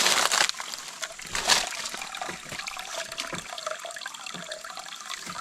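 Water from a spring in the Philippines splashing and trickling nearby, a continuous gurgling flow with a louder rush at the start and brief swells, fairly close.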